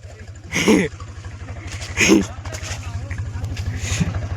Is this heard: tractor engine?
yes